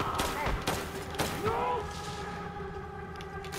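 Gunfire in the VR shooter Synapse on PSVR2, a quick burst of sharp shots and thuds early on, then whooshing effects and a sustained tonal hum as the fighting eases.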